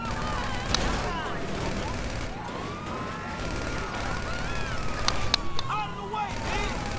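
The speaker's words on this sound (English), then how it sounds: "Oh god, they're shooting." Gang shootout gunfire in the video game GTA, scattered sharp shots over a wailing police siren that rises and falls throughout, with voices shouting in the mix.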